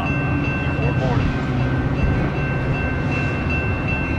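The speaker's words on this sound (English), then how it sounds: "The next outbound Metra train from Chicago is now arriving in your station." Metra outbound commuter train arriving at LaGrange station near Chicago: a steady, loud rumble of rolling rail cars with faint high whistling tones, running continuously throughout without pause.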